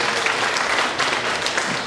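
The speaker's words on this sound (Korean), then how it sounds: "우리 모두를 위해서 다시 한번 우리 박수 한번 부탁드리겠습니다." Audience applause at a civic gathering in Yeongdeungpo for a planned Peace Girl statue, steady dense clapping filling the whole moment at close range with no break.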